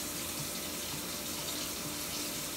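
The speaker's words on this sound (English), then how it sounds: "Now I'm gonna clean my hand off." Tap water runs steadily into a sink as hands are washed beneath it, a continuous close splashing hiss with no talking.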